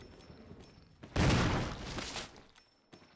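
A single loud shotgun blast in Resident Evil, sudden and close, with a booming body that decays over about a second amid otherwise quiet game ambience.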